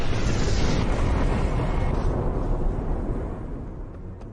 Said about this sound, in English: Local people noticed strange lights in the sky, followed by a huge explosion.